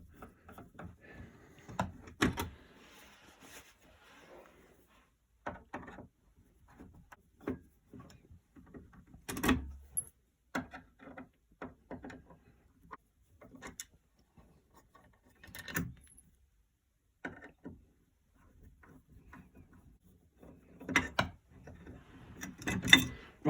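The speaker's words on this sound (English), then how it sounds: "Let's take these screws out." Sparse clicks, scrapes and metallic taps as a screwdriver backs screws out of a door handle, short isolated bursts separated by quiet gaps, close and fairly faint.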